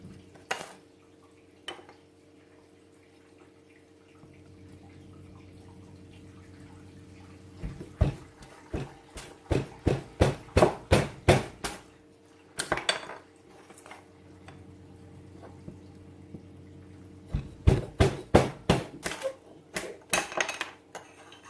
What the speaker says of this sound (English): Today I'm making sticks for my Twig stove, battening with my SE4.